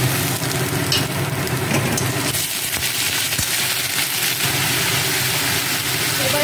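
Ginger paste frying in hot oil with fried onion, panch phoron, bay leaf and dried red chillies for a pointed gourd dolma, giving a steady close sizzle with stirring clatter.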